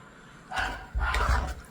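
Dogs at a home where jackfruit payasam is being cooked give two muffled, rough barking bursts, moderately close and not very loud, with low rumbling noise beneath.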